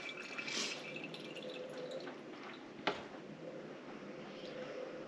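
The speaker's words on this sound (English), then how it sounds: "I could take my strainer, push down into it, and then pull the lard out from inside the strainer." Rendered lard drips from a strainer, giving a soft continuous liquid trickle close by, with one sharper drip or tap near the middle.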